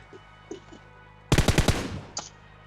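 Automatic gunfire in a battle royale video game, heard as a tight burst of about six loud, rapid shots after a few faint distant pops, followed by one more short crack.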